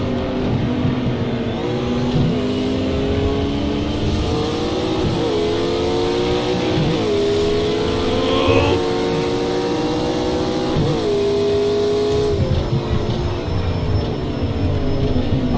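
A race car engine in a racing video game, loud and sustained, its pitch climbing through gears and dropping at each shift in repeated upward sweeps for about fifteen seconds.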